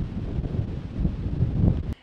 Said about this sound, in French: On entend toujours avec le vent.